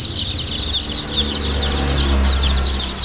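Laying hens on a poultry farm cluck steadily in a dense chorus, many birds together, loud and continuous with a low hum underneath.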